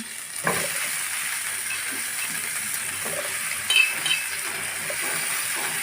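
Cauliflower, potato and brinjal frying in ginger-garlic paste, a steady close sizzle with occasional light clinks and scrapes of a stirring utensil.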